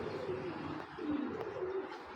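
Big giribaz pigeons in a bird market cooing softly nearby, low repeated throaty coos with a faint chirp, quiet and steady with no talk.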